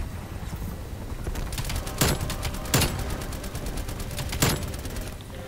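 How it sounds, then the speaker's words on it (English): OTS 9 submachine gun firing in Call of Duty Cold War, rapid automatic bursts with three sharper, louder volleys standing out over steady background game noise. "OTS definitely a solid SMG in my book."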